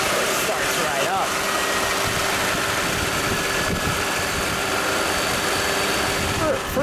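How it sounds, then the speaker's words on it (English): A GM V8 fitted in a 1976 Jaguar XJ pillarless coupe idles steadily up close, a continuous low rumble with faint voices talking over it. "For a GM V8, it sounds pretty nice."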